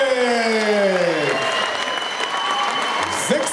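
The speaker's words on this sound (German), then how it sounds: "Darum einen ganz herzlichen Applaus aus Riga in Lettland, Semjons" Crowd applause greeting boxer Semjon Moroshek of Riga, Latvia, at a boxing event, dense steady clapping throughout while an announcer's voice carries over the start.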